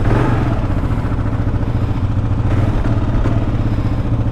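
Kawasaki KLR 650 motorcycle engine running up close, a steady low throbbing rumble with mechanical clatter held at constant loudness throughout, no voices over it.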